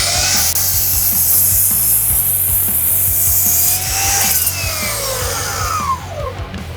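A Bosch cordless double-bevel miter saw with a 24-tooth blade cuts through wood, a loud, close, steady whining cut lasting several seconds before the blade spins down.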